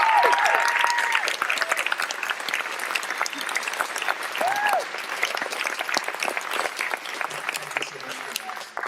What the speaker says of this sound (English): Can we have a round of applause for Watchmen?